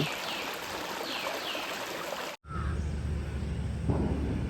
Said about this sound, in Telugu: నది కొండలోంచి వచ్చే వాటర్ అంతా ఇలా వెళ్తూ ఉంటుంది